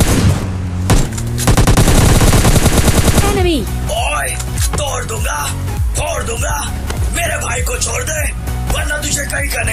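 Gunfire in the battle royale game PUBG Lite: a dense burst of rapid automatic shots up front, then scattered loud shots and impacts mixed with game sounds while someone talks over it.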